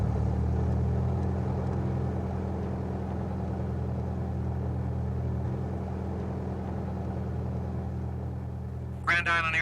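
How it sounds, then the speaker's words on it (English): A light airplane's engine runs with a steady low rumble throughout, near and fairly loud, with a short burst of radio-like voice at the very end. "Now that you're confident the plane is airworthy, you're ready to start the engine."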